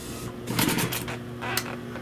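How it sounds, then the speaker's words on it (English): An upholstery sewing machine backstitching on a 1966 Buick Wildcat GS rear arm rest, a close, short mechanical run of rapid stitching chatter in a few bursts over a steady motor hum. "go back a few times to lock that stitch in"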